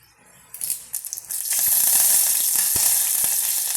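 Curry leaves and dried red chillies drop into hot oil with popped mustard seeds, and a loud, steady, close hiss of frying swells up after a few soft clatters, with no talking.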